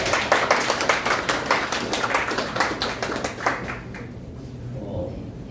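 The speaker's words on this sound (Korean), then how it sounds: "자, 박수로 환영해 주십시오." An audience claps in welcome at a lecture meeting, a dense burst of applause that gradually thins and fades out over several seconds.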